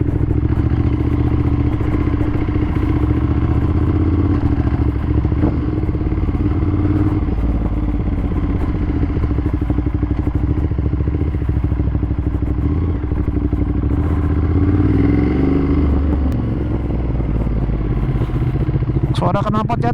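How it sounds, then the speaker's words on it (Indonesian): A 2015 Ducati Monster 1200S fitted with a CTR Pignoni 3/4 exhaust rumbles loud and steady at close range, a deep continuous engine drone with occasional clatter. "Suara knalpot CTR Pignoni 3/4."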